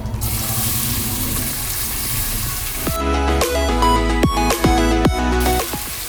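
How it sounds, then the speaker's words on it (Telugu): Onions and green chillies dropped into hot oil in a home kitchen, a broad hiss that jumps up suddenly midway and keeps sizzling steadily with crackling pops, loud and close, no voices. "నూనె కాగింది. ఉల్లిపాయలని పచ్చిమిరపకాయలని వేసుకుందాం."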